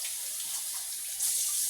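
Tap water runs steadily in a sink as something is rinsed under it, a close, even hiss that grows a bit louder near the end.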